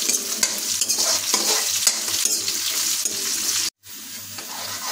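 Cut potatoes fry in a pan for a mixed vegetable bata, a steady close sizzle broken by stirring scrapes, with one short gap near the end and no talk.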